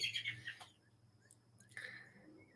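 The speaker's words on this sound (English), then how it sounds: "There's a bird that is pissing the hell out of me." A small bird chirps in a few quick high bursts, a cluster at the start and another near the end with quieter gaps between, faint and somewhat distant behind a quiet room.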